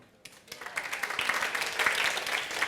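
An audience claps in applause that builds and then holds steady, dense and continuous, in a room during a teacher masterclass.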